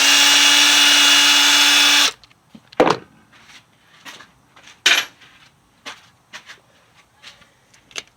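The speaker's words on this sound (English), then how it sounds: "And I'll take the impact, unscrew them." Impact wrench unscrewing spark plugs on a 2000 Acura 3.5 RL, a loud continuous buzzing whir for about two seconds that stops abruptly, followed by scattered metallic clinks and tool handling.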